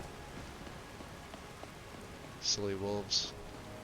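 Steady rain falling in a video game, a faint continuous patter throughout, with a short spoken remark near the end.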